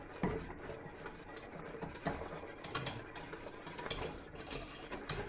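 A whisk works through meringue stirred into cloudy stock in a pot, giving a steady, fairly quiet scraping and sloshing with light clinks against the side.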